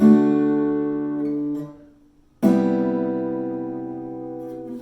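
A big acoustic guitar chord rings out and fades, then a second chord is strummed and sustains, full and resonant.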